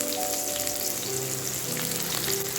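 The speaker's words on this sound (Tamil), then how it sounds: "இப்போ பூண்டு இஞ்சி சேர்த்து இதுவுமே பொன்னிறமாக ஆனதுக்கப்புறம் எடுத்துக்கலாம்" Garlic and ginger frying in hot oil until golden, a dense, even sizzle that hisses steadily up close without pause or voices, like rain on a hard surface.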